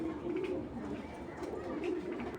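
Pigeons coo softly in low, rolling murmurs, a couple of faint throaty swells over a dull steady background hum, fairly quiet and close.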